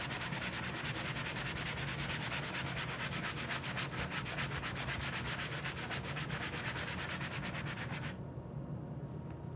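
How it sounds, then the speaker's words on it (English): A sanding sponge rubs steadily over a wooden craft piece in fast, even back-and-forth strokes, a close, continuous scratchy hiss that stops abruptly near the end. "I'm just going to take my sanding sponge and sand off as much as I can."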